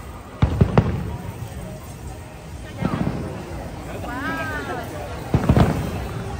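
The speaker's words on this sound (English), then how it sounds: "Wow! Wow! Fireworks!" Fireworks burst at a Disney park in several sharp pops and bangs, some doubled, at moderate distance, with people talking and exclaiming over a crowd murmur.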